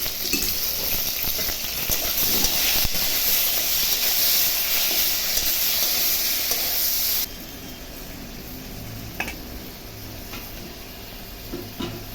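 Potato and pointed gourd sizzling in a pan with turmeric and salt for a rohu fish curry, a loud steady hissing fry that drops abruptly to a quieter sizzle with a few clinks of stirring.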